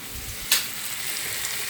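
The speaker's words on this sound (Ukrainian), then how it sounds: "Я смажу на газовій горілці, плитці, ковбасу і нагетси." Steady sizzling of sausage and nuggets frying in a pan on a gas burner, a continuous hiss with a brief sharp spatter early on.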